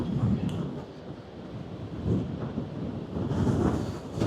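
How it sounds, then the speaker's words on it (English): Storm Floris wind batters Blackpool North Pier on the seafront, a loud rumbling roar buffeting the microphone in heavy surging gusts, with speech partly buried beneath. "Blackpool North Pier is getting blasted by Storm Floris at the minute."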